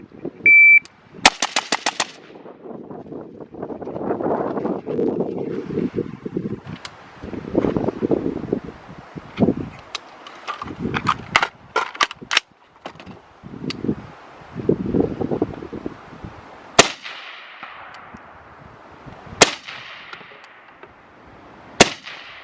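A shooter fires a rifle fitted with a Nightforce ATACR 1-8 scope at a range, giving repeated sharp gunshots, some in quick bursts and some single, with wind noise and ringing echoes between them.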